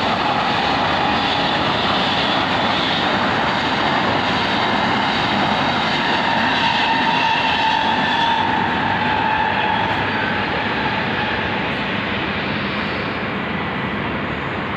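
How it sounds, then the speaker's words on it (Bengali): A local train passes along a nearby railway line, a loud, sustained broadband roar and rumble that holds steady for about fifteen seconds, with no voices. "আমাদের এখানে রেল লাইন, তাই সবসময় ট্রেন আসতেই থাকে"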